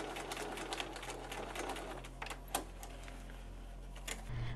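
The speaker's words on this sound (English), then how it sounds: "I pinned the piping onto the seam allowance and sewed close to the piping with a zipper foot" A sewing machine runs steadily, stitching piping onto a bodice seam allowance with a zipper foot, its rapid mechanical patter continuous and close, with a few louder knocks and a shift in motor tone at the end.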